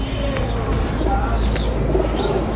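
Pigeons coo low and steadily among a roomy background hum, with some wing flutter and faint chirps, fairly close by.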